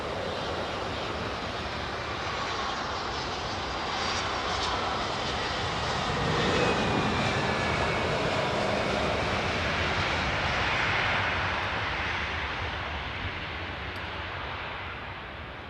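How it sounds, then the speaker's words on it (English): Korean Air Boeing 777 jet taking off, a sustained broad engine roar that swells slightly and then eases as the aircraft climbs away, distant and steady, with no voices. "that Korean 777's going out quick, isn't it?"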